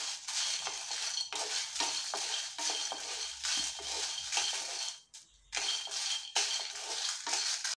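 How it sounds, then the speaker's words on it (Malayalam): Peanuts, dried red chillies and Kashmiri chillies dry-roasting in a pan, a steady scraping and rattling as they are stirred and tossed, close and continuous with one brief pause. "ഞാനിവിടെ കപ്പലണ്ടിയും വറ്റൽമുളകും പിന്നെ കാശ്മീരി മുളക് അതായത് പിരിയമുളക് ഇതെല്ലാം ഞാൻ ചൂടാക്കിയെടുത്തു"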